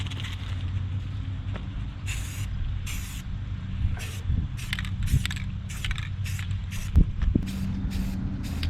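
Short bursts of Rust-Oleum Rust Reformer spraying from an aerosol can onto axle parts of an '86 Ford Ranger 4x4, about a dozen hissing puffs of varying length over a steady low background hum.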